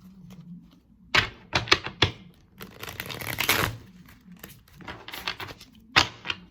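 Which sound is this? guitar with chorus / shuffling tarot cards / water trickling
shuffling tarot cards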